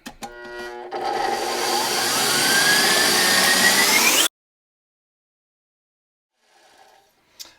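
An electric kitchen mixer whirs at high speed while beating brownie batter, starting with a brief burst then rising into a loud steady whine for a few seconds before cutting off abruptly to near silence.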